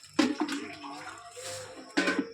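Water drawn by bucket for watering garden plants, a splashing and pouring burst near the start and another near the end, with faint voices in between.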